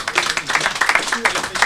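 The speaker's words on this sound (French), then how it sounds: "On peut l'applaudir" A short burst of audience applause after a talk on water resource management, many hands clapping at a steady, lively pace, fairly loud and close.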